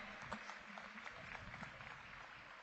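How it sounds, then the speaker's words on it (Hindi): Audience applause at a Delhi Teachers University event, a continuous, moderately faint wash of clapping from a crowd, heard at some distance with a muffled, boomy quality. "जोरदार ताली बजती रहें"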